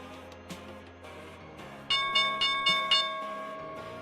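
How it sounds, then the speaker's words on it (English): A stock market opening bell rings in a burst of about five clanging strikes that leave a bright, sustained ringing tone, following a quieter stretch of soft background tones. "Here's the opening bell."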